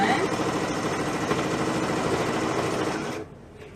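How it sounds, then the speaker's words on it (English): A sewing machine stitches steadily through the layers of a baby rag quilt, a continuous close mechanical whir with rapid needle rhythm that stops abruptly near the end. "Trying to sew as straight as possible."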